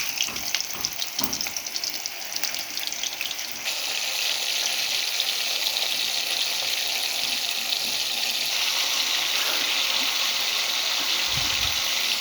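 Chicken pieces sizzle loudly in hot oil, a steady bright crackle that swells after the first few seconds once the meat goes in and keeps up without a break, with no talking.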